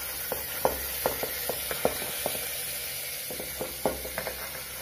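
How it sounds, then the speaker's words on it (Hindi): Hot oil sizzles steadily as chana dal is tempered, with sharp pops and crackles scattered throughout, close by and moderately loud. "अब ये दाल हमारी छौंक गई है।"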